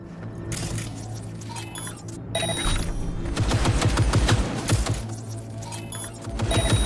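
Bursts of automatic gunfire from a Cyberpunk 2077 firefight ring out over a steady game soundscape, with rapid volleys clustering in the middle of the stretch and scattered shots before and after.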